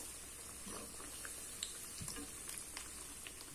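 White chickpea vada, a crispy masala snack, frying in hot oil over a medium flame, giving a steady soft sizzle with occasional small pops and crackles throughout.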